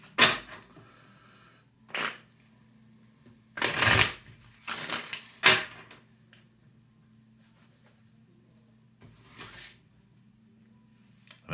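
Tarot cards are shuffled in several short, crisp riffling bursts, separated by quiet pauses over a faint low hum.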